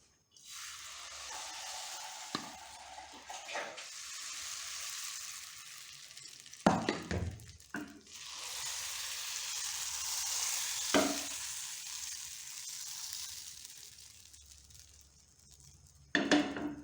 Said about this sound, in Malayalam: നമുക്ക് മാവ് ഒഴിച്ചു കൊടുക്കാം.